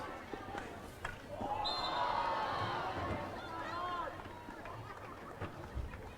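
Spectators at an Oceania Cup men's field hockey match between Australia Legends and CQI raise a distant, rising roar of cheering that peaks briefly and then settles into a steady crowd murmur.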